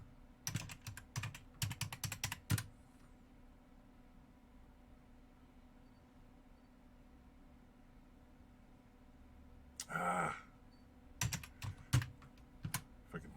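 Quick bursts of typing on a computer keyboard in a terminal, a rapid flurry at the start, a short pause of near silence, then another brief burst and scattered keystrokes near the end.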